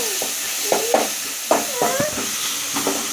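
Ginger garlic paste sizzles and hisses steadily in a hot pan for a mutton curry, with scattered scraping and stirring clatters over the constant frying noise and no talking.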